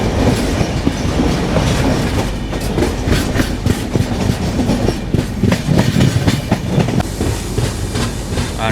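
MGR Chennai Central–Howrah Mail superfast express running through a gentle curve near Vizianagaram, with loud continuous rail rumble and rhythmic clickety-clack of wheels close by, steady throughout.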